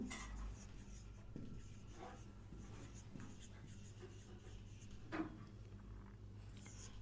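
Writing on a board: quiet scratching strokes of a marker or chalk across the surface, faint and intermittent, with a couple of light knocks and no speech.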